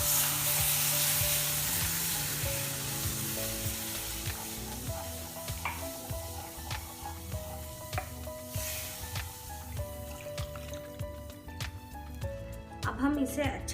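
Milk poured into golden-browned flour roux and stirred for a white sauce, with continuous sizzling and scraping stir strokes in a steady rhythm, and a voice talking over it throughout.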